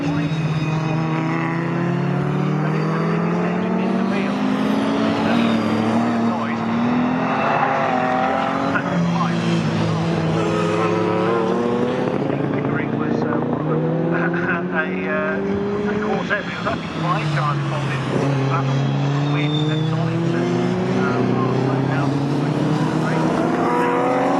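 A 1960s Chevrolet Camaro races in a historic saloon car race at Snetterton, its engine roaring and rising and falling through gear changes alongside other cars, under continuous excited race commentary.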